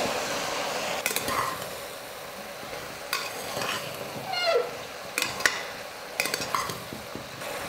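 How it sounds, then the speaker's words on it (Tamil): Chopped vegetables and tomatoes sautéing for sambar rice, a continuous sizzle broken by repeated scraping stirs of a spoon against the pan, close and fairly loud. "ஒரு 2-3 நிமிஷம் நல்லா வதக்கிக்கலாம் காயெல்லாம்"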